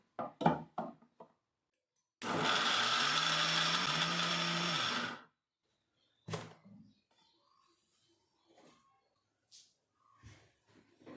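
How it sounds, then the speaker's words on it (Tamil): An electric mixer grinder blends fried ingredients with a little water in its jar, a loud steady whirring burst of about three seconds, framed by clattering of the jar and lid before and after. "ஸோ இதை வந்து நம்ம மிக்சர் ஜாருக்கு வந்து ட்ரான்ஸ்ஃபர் பண்ணிக்கலாம். இதில் கொஞ்சமாக வாட்டர் ஆட் பண்ணி நல்லா பிளெண்ட் பண்ணி எடுத்துக்கலாம்."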